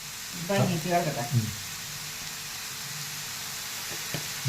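Chicken, onion, tomato and turmeric with salt sauté in a pan for a chicken roast, a soft steady sizzle running throughout with a few stirring scrapes, while someone speaks briefly near the start.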